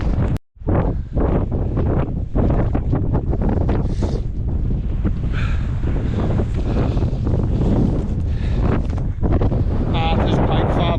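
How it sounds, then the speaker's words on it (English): Strong wind on a fell summit near Aira Pike in the Lake District buffets the microphone. A loud, constant roar and rumble continues throughout with no lull. "Wind still hasn't calmed down, like it's a bit chilly"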